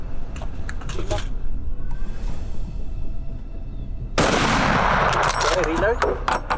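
Rifle gunshots on a hunting safari: scattered sharp cracks in the open, then a loud burst of several close shots with echoing tails in the second half.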